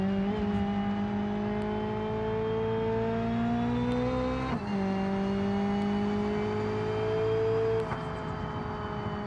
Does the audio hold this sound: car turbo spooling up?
yes